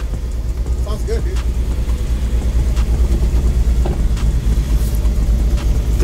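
A Datsun 280Z, revived after sitting untouched for fourteen years, runs with a steady close engine rumble throughout, with people talking over it.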